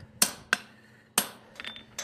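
Sharp metallic hammer strikes on a fuller set on hot steel at a blacksmith's forge, three distinct ringing blows followed by lighter taps, close and moderately loud.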